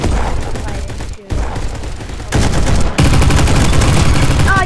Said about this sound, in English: Sorry about all the guns fighting too.